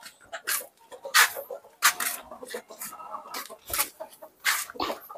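Free-range village chickens on a farm cluck in short bursts, with a dog whimpering and people talking nearby.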